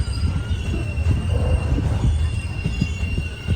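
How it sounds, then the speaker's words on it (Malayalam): The Mangala Lakshadweep Express pulls away from a station stop, its wheels squealing with a sustained metallic whine over a heavy low rumble and scattered rail clacks, loud and close. "നീലേശ്വരത്ത് നിന്ന് ഞങ്ങൾ വന്ന ഈ ഒരു മംഗള എക്സ്പ്രസ് പോവുകയാണ്."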